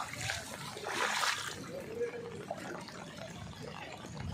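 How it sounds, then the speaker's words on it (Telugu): Steady rushing water from a waterfall fills the background while people talk over it, with a brief louder splashy burst near the start. "ఇది వాటర్ ఫాల్స్"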